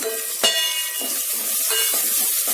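Tomato frying with masala powders for chicken biryani: a steady, close sizzle with stirring and scraping in the pan, and one sharp clink near the start.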